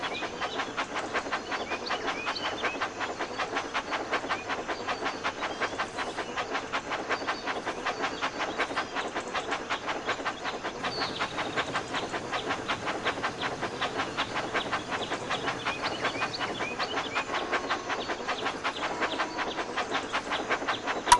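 A toy train set in a Thomas and Friends game runs steadily, a dense rhythmic rail clatter with a hissing wash that holds evenly throughout, fairly loud and close, with no one speaking.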